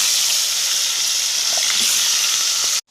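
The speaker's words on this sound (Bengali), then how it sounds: "এখানে কড়াইতে তেল দিয়ে জিরে ফোড়ন দিয়েছি। এবার দিয়ে দেবো ধুন্দুল।" Ridge gourd hits hot oil tempered with cumin in a wok and sizzles loudly and steadily at close range, a dense frying hiss that cuts off abruptly just before the end.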